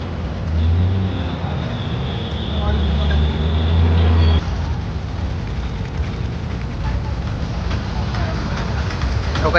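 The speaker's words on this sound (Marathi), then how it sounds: "संडे असल्यामुळे खूप इकडे ट्रॅफिक आहे दगडूशेठालवाई रोडला बघू शकता तुम्ही" Heavy Sunday road traffic on Dagdusheth Halwai road in Pune, a loud, dense rumble of engines and passing vehicles close by, with a low droning engine early on and people talking over it.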